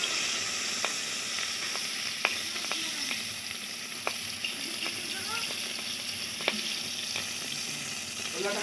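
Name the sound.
catla fish frying in a wok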